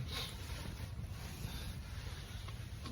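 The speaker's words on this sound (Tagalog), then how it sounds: "Windy." Wind gusts across the open frozen Red River during ice fishing in December, a constant low buffeting rush against the microphone with no other distinct sounds.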